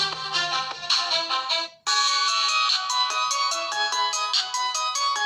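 A LEAGOO M13 smartphone plays its ringtone at full volume through its loudspeaker: a bright, repeating electronic melody of quick notes, briefly cutting out and restarting, loud and alone.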